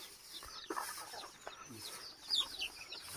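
Chickens cluck softly nearby in a quiet outdoor setting, with scattered short calls and faint background noise.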